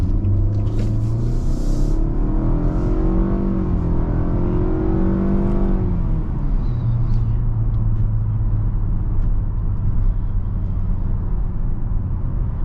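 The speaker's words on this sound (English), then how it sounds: "We're gonna go ahead and put it in sport mode and do an acceleration right here" A 2022 Nissan Altima in sport mode accelerates from inside the cabin: a loud engine drone climbs steadily in pitch, drops briefly at a gear change, then keeps rising under a constant road rumble.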